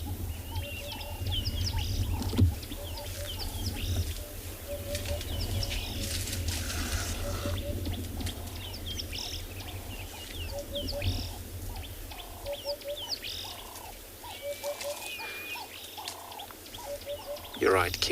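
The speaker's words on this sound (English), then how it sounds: "If you mean that bird is still calling, because there's kind of a few different call of birds in this area." Wild birds call repeatedly in the South African bush during a morning safari, with rhythmic chirps and varied calls at a moderate distance over low vehicle rumble.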